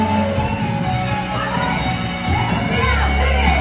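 A dense crowd fills Fremont Street in Las Vegas on a Saturday night, with a continuous loud roar of many voices, shouts and whoops blending into one steady wall of sound.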